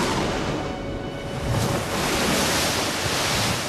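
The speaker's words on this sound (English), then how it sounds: "Everyone fought the wind, but to no avail." A storm at sea with strong wind and breaking waves that send a sailing ship down, a steady loud roar of surf and gusting wind that swells midway and carries on with no voices.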